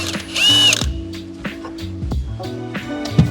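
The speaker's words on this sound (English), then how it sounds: "12mm triple square. I'm just gonna impact it out." Impact wrench removing a 12mm triple square hub adapter bolt on an MR2 Spyder, a short loud rattling, hammering burst followed by mechanical clicks and clunks nearby.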